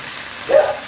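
Ginger garlic paste frying in a pan on medium heat gives a brief, close sizzling hiss with a short swell of louder frying near the middle, no voices.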